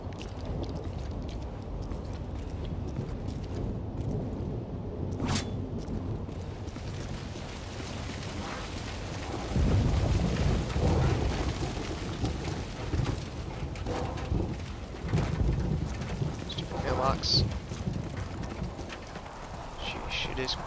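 Rain pours down in Modern Warfare 2 while deep thunder rolls in midway, a heavy rumbling swell over the continuous downpour, with scattered clicks and muffled voices.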